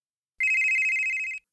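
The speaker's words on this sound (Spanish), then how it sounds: "¿Suena un teléfono?" A single ringing telephone in a children's jungle adventure cartoon, one continuous electronic bell tone lasting about a second, loud and close, with no talking over it.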